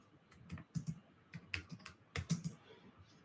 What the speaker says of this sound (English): I'm just going to type it out here for you.